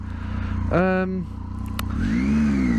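A Triumph Tiger 800 XCA motorcycle engine revs up and drops back twice, with pitch rising and falling between gear changes, heard close and fairly loud over steady idle.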